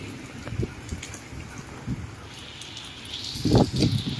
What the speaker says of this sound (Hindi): तो ये बारिश का मौसम और यहाँ पर बारिश का आनंद लेते हुए काफ़ी सारे लोग, हम खुद इस बारिश का आनंद ले रहे हैं।